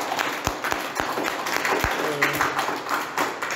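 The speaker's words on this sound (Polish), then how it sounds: "Wielkie brawa" A small audience at a Polish author's book talk gives brief applause, sparse distinct claps with a few voices and room noise, fairly close and short-lived.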